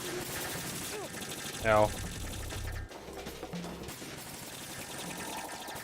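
Bursts of gunfire during a shooting section of the video game MGS2, rattling shots and mechanical clicks amid game effects, with a short voice exclamation in the middle.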